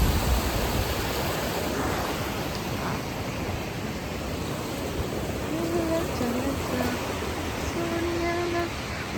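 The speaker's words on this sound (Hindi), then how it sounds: "भाई यहाँ पे वाटरफॉल है।" A waterfall at a hidden spot in Georgia, heard as a steady, dense rush of falling water that fills the whole clip, with a faint voice and a few brief tonal sounds rising above it near the end.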